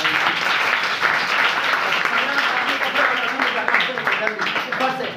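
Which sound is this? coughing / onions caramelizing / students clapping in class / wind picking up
students clapping in class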